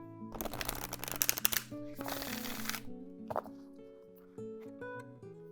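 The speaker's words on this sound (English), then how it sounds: "I haven't used this one in a while, so that's why I shuffled it a lot." Tarot cards shuffled in quick riffling bursts, loud and close, then softer taps and card handling, with no voices.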